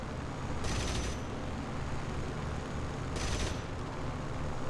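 Aircraft guns firing during a dogfight in War Thunder Realistic Battles, two short bursts of rapid fire over a constant droning engine roar.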